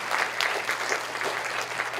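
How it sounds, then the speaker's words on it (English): A school spring concert audience applauds the saxophone soloist of the jazz band, a full, steady round of clapping from the crowd, heard from a little distance. "Let's get another round of applause for him."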